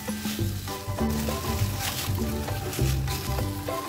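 Tomato sautéing with ginger-garlic paste and green chilli in a pan, a steady close sizzle with soft stirring and scraping throughout, no speech.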